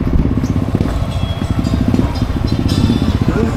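Motorcycle engines rumbling and idling close by near a beach resort in Kaputian on Samal Island, a steady low chugging with light clatter running throughout.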